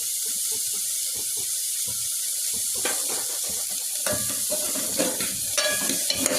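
Brown radish seed chaat with lemon juice and chaat masala being stirred in a pan: a soft scraping sizzle that swells into denser, busier clatter toward the end, close and unaccompanied by talk.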